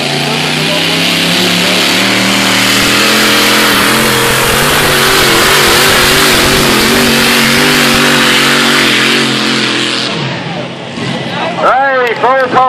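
A tractor-pulling machine with a 540 cubic inch Chrysler Hemi-derived engine at a 2013 Quambatook tractor pull roars loud and sustained for about ten seconds, then drops away into rising, whining tones.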